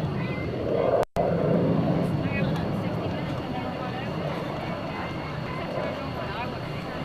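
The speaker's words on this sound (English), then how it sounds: "We're going to follow Dale with the F-18F Super Hornet" F/A-18F Super Hornet jet at a naval air station airshow, a broad steady roar of jet engine noise filling the whole stretch, briefly cut out once near the start.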